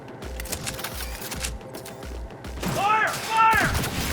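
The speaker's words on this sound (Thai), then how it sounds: "โอ้ปืนแรงมากเลย ปืนเนี้ย" Steady, evenly spaced bursts of gunfire from a weapon in Cyberpunk 2077 thump along in the background, with a voice speaking over the final stretch.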